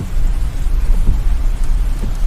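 Steady, heavy rain pours in a dense, continuous wash of noise, loud and close, with a low rumbling undertone and no voices.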